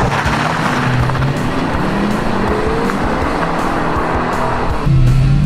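Ford Mustang V8 with manual transmission launching hard and accelerating beside a Corvette in a cheap classic V8 shootout; loud, close engine roar climbing steadily in pitch, with a fresh surge near the end.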